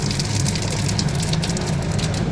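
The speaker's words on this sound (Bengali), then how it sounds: "এখন এই তেলের মধ্যে আমি এখন দেবো রাঁধুনি ফোড়ন" Radhuni spice seeds sizzle loudly and continuously in hot oil, a steady close crackle with no pauses, as tempering for a spinach and fish curry.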